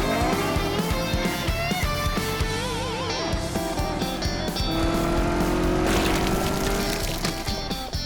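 A cartoon dinosaur car revs hard and its tires squeal as it accelerates, mixed under loud, continuous music that runs through the whole stretch.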